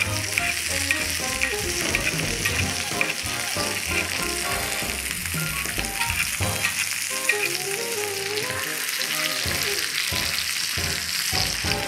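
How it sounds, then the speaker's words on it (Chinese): A 13-year-old Australian wagyu steak sears in a cast iron pan on a portable gas burner, giving a loud, continuous sizzle and crackle of frying fat with occasional scraping, and no talking. "让它去煎"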